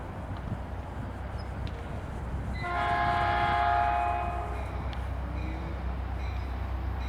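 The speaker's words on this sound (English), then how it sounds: "Here comes Scout Train 264" Train 264 arriving at College Park station sounds a clear horn blast of about a second and a half over a low, steady rail rumble.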